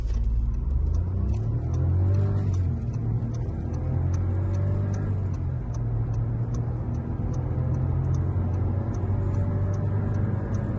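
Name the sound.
Skoda Scala 1.0 TSI DSG accelerating at full throttle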